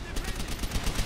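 Rapid automatic gunfire in Call of Duty: World at War, a fast close burst of repeated shots with no talk over it.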